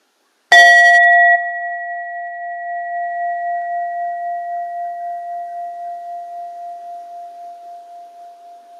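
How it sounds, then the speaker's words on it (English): A single clear bell strike rings out, then a pure sustained tone slowly wavers and fades over several seconds in silence. "As you hear the sound of the bell slowly fading away"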